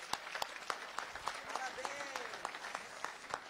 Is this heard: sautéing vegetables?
no